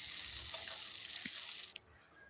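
Chicken pakoras frying in hot oil give a dense, continuous hiss and crackle that fills the clip, then cuts out abruptly near the end, with no one talking.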